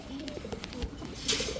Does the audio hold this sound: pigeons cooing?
yes